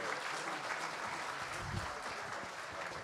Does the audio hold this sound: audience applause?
yes